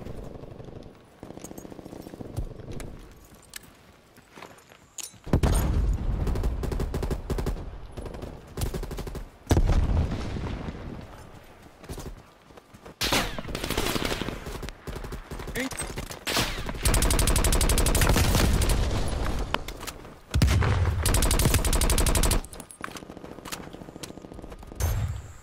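Gunfire in Call of Duty: Cold War comes in loud bursts of rapid automatic shots with short pauses between volleys, some sustained, some clipped, with quieter gaps.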